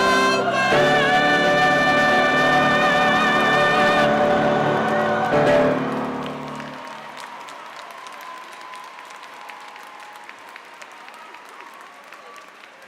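An audience at the 2018 Spelman College commencement cheers and applauds the Spelman College Glee Club as sung music ends, loud sustained clapping and whoops that fade gradually into scattered claps.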